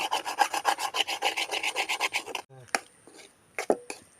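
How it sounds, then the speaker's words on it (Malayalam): Food is stirred in a pan while cooking an idli dish, seasoned with a pinch of pepper, giving a rapid rhythmic scraping of a spoon for about two seconds, then a few scattered clinks and knocks. "നന്നായി ഇളക്കി കൊടുക്കാം."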